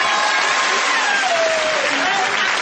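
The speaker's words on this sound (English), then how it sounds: "Give them a round of applause." Studio audience at a televised comedy roast applauds as former Big Brother housemates arrive, a loud continuous clapping roar with a faint musical tone gliding beneath it.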